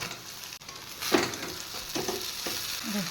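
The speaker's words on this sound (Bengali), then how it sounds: "এবার চাউমিনগুলো দিয়ে দেবো" Chowmein noodles being stir-fried in a pan make a soft, constant sizzle, broken by a few scraping strokes and louder bursts as the noodles are tossed, with no voices.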